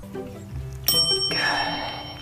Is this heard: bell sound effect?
yes